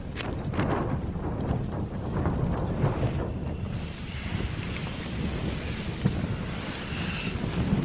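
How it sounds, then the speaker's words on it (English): A strong gale buffets a backpacking tent pitched on Cribyn in the Brecon Beacons, a loud, continuous roaring rush with gusts pressing on the fabric. "wind's blowing a bloody gale"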